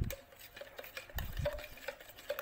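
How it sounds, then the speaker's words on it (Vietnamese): A spoon stirring dry yeast into 150 ml of lukewarm filtered water, faint soft scraping and light clinks against the container in an uneven rhythm, close and quiet. "Mình khuấy, mình kích hoạt men."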